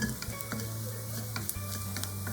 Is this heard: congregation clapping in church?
no